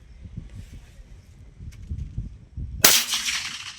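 An M24A2 sniper rifle fires a single sharp, loud shot during a test firing. Faint shuffling and rustling come before the shot, and a brief ringing decay follows it.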